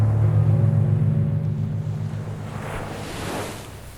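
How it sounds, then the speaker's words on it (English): Ocean waves wash steadily against a cliffside, a continuous roaring surf with wind rumble that swells and slowly eases, no voices present. "As ocean waves lap at the cliffside"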